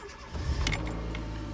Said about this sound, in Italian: A questo punto io dovrei poter accendere il motore